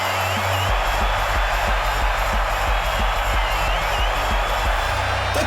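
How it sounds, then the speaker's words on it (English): A dense, steady roar of crowd cheering at a stop-motion wrestling show, loud and continuous throughout, with thumping music beats underneath. "The crowd erupts!"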